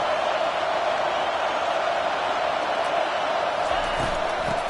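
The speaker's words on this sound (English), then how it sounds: "This crowd is trying to inspire this defense to make a big red zone stop." A stadium crowd at a football game roars steadily as the home defense tries for a red zone stop, a loud sustained wash of noise with a commentator talking over it.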